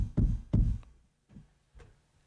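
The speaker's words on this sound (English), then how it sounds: "Knock on wood." Knuckles rap on wood: two firm, close knocks in quick succession, then two softer taps after a pause, with no talk over them.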